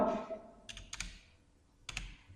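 A handful of computer keyboard keystrokes enter an Excel formula: soft clustered clicks in two short bursts, close and quiet, with no voice.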